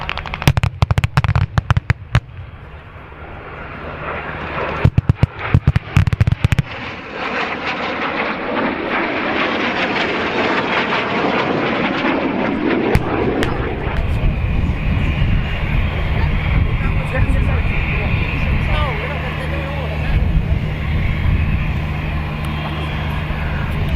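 Airshow weapon demonstration with 7.62mm machine-gun fire and pyrotechnics: sharp rapid bursts of shots in the opening seconds, then a loud sustained aircraft engine roar dominating the rest.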